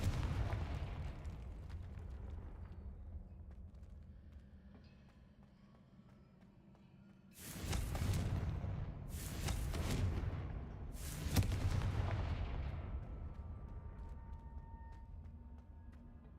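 Confringo blasting spells in Hogwarts Legacy go off as three heavy, booming explosions in quick succession over a low rumbling background, each burst loud and broad with a decaying tail.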